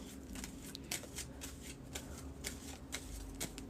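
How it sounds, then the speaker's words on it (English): A tarot deck being shuffled by hand, with soft, rapid riffling and repeated light card slaps in an even rhythm, close and quiet, with no talking. "Give these a quick shuffle."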